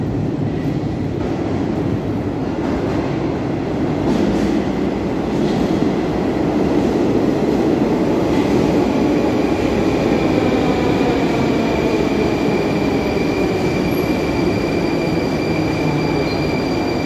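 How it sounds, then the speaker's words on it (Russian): A Kazan Metro train rumbles steadily along the tracks, a continuous loud roar with faint rhythmic clatter and a thin squeal of wheels. "Это Казанский метрополитен."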